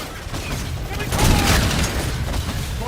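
Anti-aircraft guns fire in the Call of Duty Infinite Warfare video game as rapid, rumbling bursts and booms under a voice speaking.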